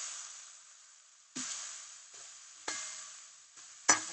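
Leafy greens frying in oil in a pan, a bright steady sizzle that flares up in several loud bursts as the greens are tossed or stirred, then slowly fades between them.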